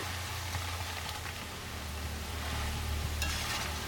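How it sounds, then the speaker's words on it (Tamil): Jackfruit chips fry crisply in hot oil with a steady, dense crackling hiss like rain, while a ladle stirs and scrapes through them now and then, close and continuous. "நல்லா வெந்ததுக்கு அப்புறமா நம்ம கரண்டியில் கோரி பார்க்கும்போது நல்லா கிறிஸ்பியாக இருக்கிறது மாதிரி சவுண்டு வரும்"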